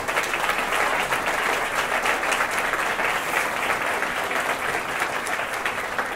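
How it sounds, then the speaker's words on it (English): A crowd at an outdoor campus building naming ceremony gives a sustained round of applause, dense steady clapping that holds strong for several seconds and tapers slightly at the end. "I think we ought to just give a round of applause for what's happening here."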